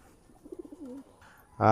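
A pair of Omani pigeons coo softly in a short, low burble, then a louder sound breaks in at the end.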